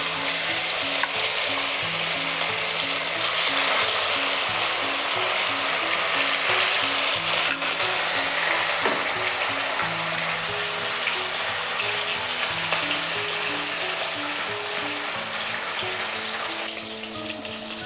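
Fish sizzles and crackles steadily in hot oil close up, a continuous loud frying hiss with a faint rhythmic hum underneath.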